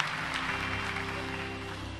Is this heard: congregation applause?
yes